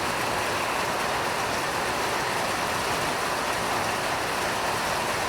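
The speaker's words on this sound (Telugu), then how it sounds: "బయట వర్షం" Rain falls outside at Maredumilli, heard as a constant, even hiss at moderate level with no talking.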